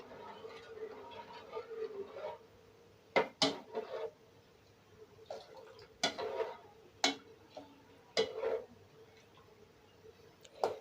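A spoon stirs sugar into milk in a pot, giving sparse, sharp clinks and knocks against the metal with quiet gaps between them.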